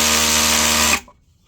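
A Bauer brushless 20V rotary hammer spins up close in a loud, steady, high-pitched motor whine, then cuts off abruptly after about a second and leaves near silence.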